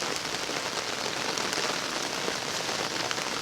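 Steady rain patters on surfaces along a hiking trail at the start of the rainy season, a dense, even hiss of drops holding at one level throughout, with no voices.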